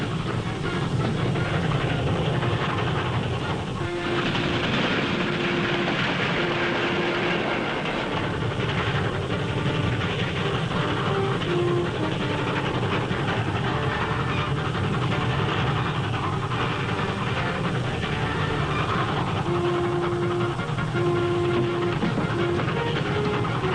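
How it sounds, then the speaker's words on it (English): A train in a 1941 Western film hauls a powder car toward a tunnel, its rumbling, clattering run loud and continuous with faint whistle-like tones drifting over it. "Don't stop the train until you're sure the powder car is in the tunnel."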